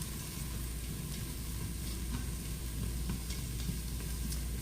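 Chopped onion, one cup, sizzling steadily in a hot pot on the stove as it softens before butternut squash soup is made; a continuous, moderate frying hiss with faint scattered crackles and no talking.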